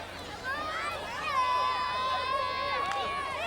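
A crowd packs the stands at a high school football game at Troy High School, a busy background of cheering and shouting voices, some rising and falling, with speech mixed in.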